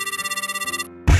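An unanswered telephone rings in a steady, rapid electronic trill with regular pulses for most of a second, then cuts off, followed by a brief loud thump or rustle.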